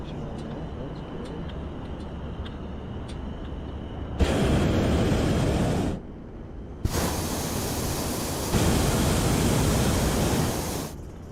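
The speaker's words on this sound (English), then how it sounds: "Sound a little different, the burner" Hot air balloon burner roaring in loud, broadband blasts, firing in two long bursts separated by a brief pause, heard close up over a quieter background of wind and faint talk.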